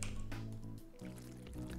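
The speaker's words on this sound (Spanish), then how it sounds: "Y llenamos el agua también." A water bowl is filled at an animal shelter in a video game, heard as a quiet, continuous liquid pouring and gurgling sound that runs throughout at low level.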